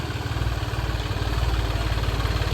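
Tractor engine fitted with a new silencer, running with a deep rhythmic thumping exhaust beat, close and loud, steady with a slight rise partway through.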